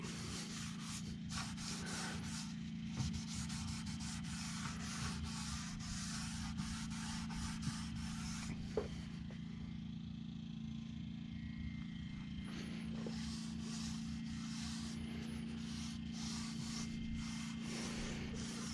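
Cloth rubbing a thick finish into the end grain of a wooden countertop during a short bus conversion, a steady close scrubbing and swishing that runs continuously over a low background hum.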